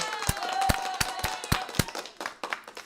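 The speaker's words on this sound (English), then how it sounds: "let's give a round of applause to the Final Cut Pro team" Applause for the Final Cut Pro team during a live online show: a small group claps in sharp, slightly uneven strikes across a few seconds, close and moderately loud.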